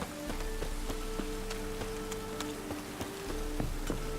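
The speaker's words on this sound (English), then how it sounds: "It only ever rains these days." Rain falling in the video game The Witcher 3, a steady patter of drops on surfaces with scattered sharper ticks and a low hum beneath, with no talk.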